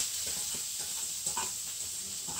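Chopped medium onion sautéing in about a tablespoon of oil in a deep frying pan, giving a steady, close hiss and sizzle with faint stirring scrapes throughout.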